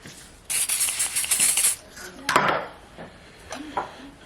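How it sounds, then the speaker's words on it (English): A cooking oil spray can gives a steady hiss for about a second over a pan with chicken, then a few clatters of kitchenware follow nearby. "Oil spray."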